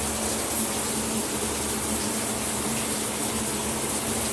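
Water pours steadily from a shower, a continuous rushing gush that stays even and close throughout with no pauses.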